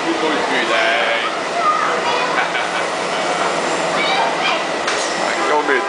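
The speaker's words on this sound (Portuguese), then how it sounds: "Aqui é o metrô do Cariri." The Cariri metro train in Ceará, Brazil, runs toward Juazeiro do Norte with a steady rumble and rushing noise throughout, heard from inside the moving car.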